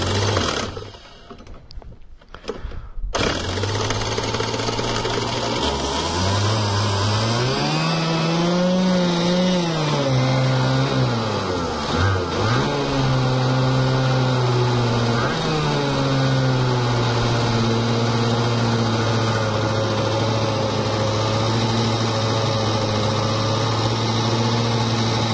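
Birel 85cc kart two-stroke engine: a few seconds of quiet handling noise, then it catches and fires up into a loud, buzzy idle that wavers and blips in pitch before settling into a steady drone.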